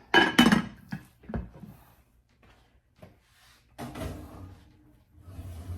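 A metal lid clatters onto a cooking pot holding cranberry chicken, a sharp clanking burst at the start followed by softer knocks and faint kitchen clinks in a quiet room.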